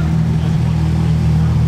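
A Ford GT supercar idles with a low, steady rumble at a Monaco street setting, continuous and fairly close, with faint ambient noise around it.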